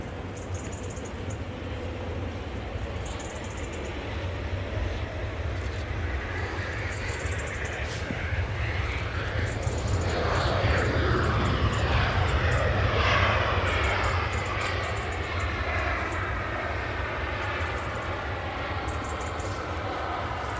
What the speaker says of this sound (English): This is a Ryanair from Brussels.